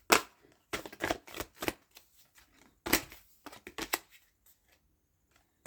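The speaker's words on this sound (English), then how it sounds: "Just give the cards a bit of a shuffle." A deck of tarot cards being shuffled by hand, a series of quick riffling bursts and soft flicks in uneven clusters, close and fairly quiet with pauses of near silence between.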